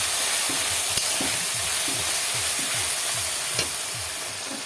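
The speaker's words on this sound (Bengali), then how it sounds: "মরিচ বাটা লবণ হলুদ এবার ভালো করে মিশিয়ে নেব" Chili paste, salt and turmeric being stirred in a hot pan: a steady sizzle with regular scraping strokes of the spoon, close up.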